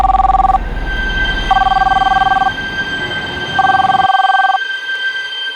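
A landline telephone rings in three long electronic bursts separated by pauses, loud and close, with faint voices in the background.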